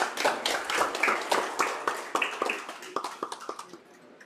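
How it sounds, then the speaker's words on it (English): Applause for students at a rural high school graduation in Belize: a crowd claps steadily and loudly, then thins out to scattered, fading claps. "Let's give them a round of applause again."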